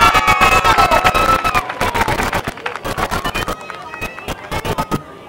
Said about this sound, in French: Mesdames, messieurs, on applaudit numéro 44 des Canadiens pendant que le match se poursuit, Stéphane R